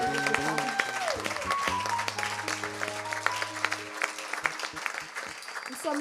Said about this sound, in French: est-ce que vous pouvez faire un tonnerre d'applaudissements